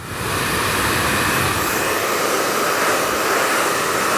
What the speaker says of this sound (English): Keeping the nozzle of the dryer directed onto the hair as well.